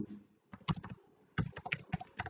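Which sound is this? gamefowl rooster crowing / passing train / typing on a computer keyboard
typing on a computer keyboard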